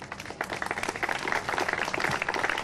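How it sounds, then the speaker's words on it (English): Audience applause at a candlelight vigil, a dense, steady wash of many hands clapping together at moderate distance, sustained evenly throughout without voices over it. "And I think he deserves a round of applause also."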